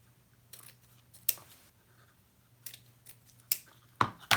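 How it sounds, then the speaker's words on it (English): Scissors snip through stitched, taped ribbon being trimmed for a patriotic wreath, with a few short sharp cuts spaced apart over a quiet low hum and a louder cluster at the end. "I'm going to cut that out."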